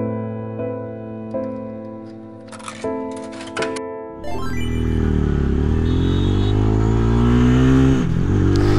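A Chinese motorcycle engine running lean idles close by with an uneven, ticking pulse, then revs up hard and holds a loud, rough drone to the end.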